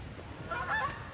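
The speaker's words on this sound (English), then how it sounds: "Geese trying to find" Geese honk outdoors, a few nasal calls rising over a steady background rumble, moderately distant and brief.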